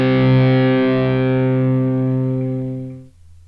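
A distorted guitar power chord patch in Omnisphere rings out loud and buzzing. It holds steady, then fades away and cuts off near the end.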